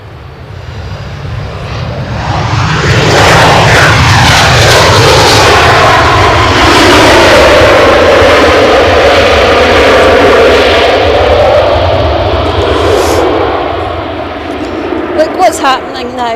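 An Emirates A350-900 airliner at Edinburgh airport makes a loud, sustained jet roar that swells over several seconds, holds, then slowly fades.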